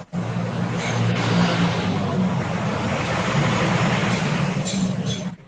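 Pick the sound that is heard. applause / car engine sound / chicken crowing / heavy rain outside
car engine sound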